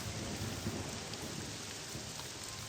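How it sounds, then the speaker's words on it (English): Thunderstorm in Morrowind, a dense, constant hiss of heavy rain with low rumbling underneath, steady and unbroken throughout. "and then the thunderstorm returned"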